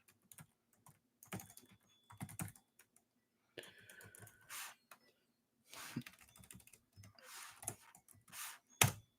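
Someone types an email address on a computer keyboard, producing close, quiet bursts of rapid key clicks separated by short pauses.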